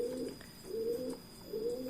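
Pigeons cooing inside a loft where several eye types are kept, three soft rolling coos in steady succession, close and clear over a faint background hum.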